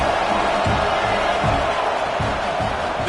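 A large home crowd at a football game roars and cheers continuously, a dense wall of noise with rhythmic surges, loud and unbroken.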